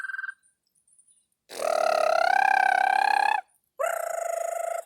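A voice imitates an American toad's long call in two sustained, loud, reedy trills, the first lasting nearly two seconds and the second shorter, after a brief faint whistle-like note at the start.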